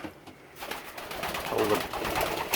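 Pigeons coo inside a loft with a soft, continuous murmur of overlapping low calls that grows fuller and slightly louder partway through, with no one talking.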